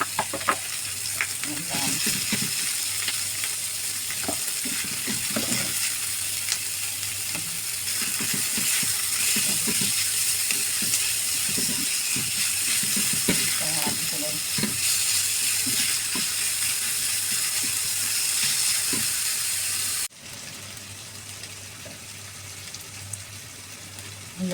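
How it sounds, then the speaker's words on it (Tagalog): Ground pork with onion sautéing in a pan: a continuous loud sizzle and crackle, with intermittent scraping stirs and clatter, heard up close; a brief word is spoken and the sizzle dips near the end. "Tapos, igisa natin yung ating giniling."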